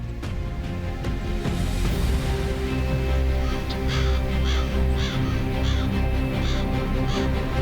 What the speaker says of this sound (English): In the evening, thousands of crows, coming from all sides, gather in the same direction.